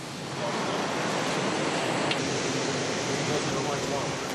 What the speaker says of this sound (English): We're pumping heated fresh air into the hall.